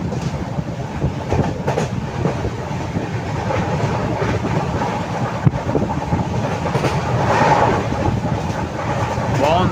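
Train 22503 Vivek Express from Kanyakumari to Dibrugarh runs along the tracks through a curving section with small tunnels, a steady loud rumble with clickety-clack of wheels and a brief squeal near the end.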